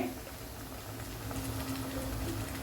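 Onions sizzle in a pan with ginger garlic paste for a Kashmiri chicken gravy, a steady, close, hissing fry that holds even throughout with no voices.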